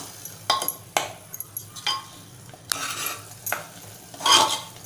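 Masala paste for Malvani-style mutton curry being sautéed in oil, a spatula scraping and stirring in repeated strokes with a few metallic clinks and a soft sizzle underneath, close and fairly quiet.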